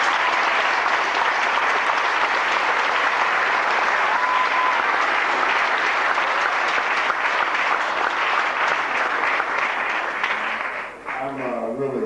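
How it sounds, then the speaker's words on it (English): Sustained, dense audience applause for the dean of residence life at a campus fireside chat, loud and steady for about eleven seconds before thinning out abruptly at the end. "Please hear Dean King, a round of applause."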